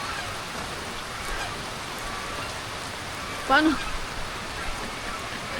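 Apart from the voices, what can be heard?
rain falling while planting crops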